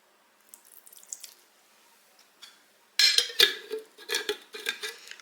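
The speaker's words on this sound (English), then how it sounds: "I'm going to pour a little bit of that juice in just for flavor." Beef roast juice poured into a pan in a home kitchen, faint clinks and trickling at first, then louder splashing liquid and utensil clatter close by, with no talk.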